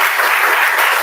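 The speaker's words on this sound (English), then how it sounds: "give yourself a round of applause for those who did that" Loud, close crowd applause fills a brief moment at a live kayak award show, a thick continuous burst of clapping hands with no gaps.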